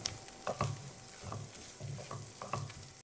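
Spices are worked into a potato filling for aloo kachori, with repeated scraping and stirring strokes of a spoon against a pan, in a steady rhythm of about six strokes over a quiet background.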